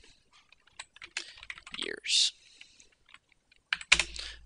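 Close, quiet computer-keyboard typing comes in scattered bursts of clicks with pauses, and a voice speaks briefly over it.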